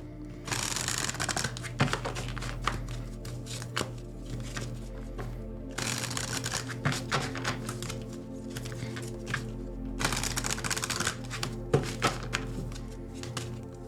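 A deck of tarot cards is shuffled and cards are drawn, making close, crisp riffling bursts with soft slaps and taps between them. A low background hum runs underneath.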